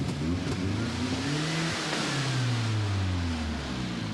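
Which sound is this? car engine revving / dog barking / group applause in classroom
car engine revving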